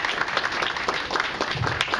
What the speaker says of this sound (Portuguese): Uma salva de palmas para Raquel Cruz, do ITCC, né?